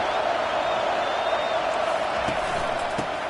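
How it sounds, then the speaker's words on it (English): A college football stadium crowd roars steadily as one unbroken wash of noise, loud and sustained throughout with no clear breaks. "This crowd trying to make life miserable for this offense."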